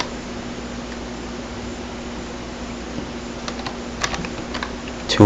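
Keys clatter on a computer keyboard as code is typed, scattered light taps heard faintly over a steady background hum of fan or air conditioning.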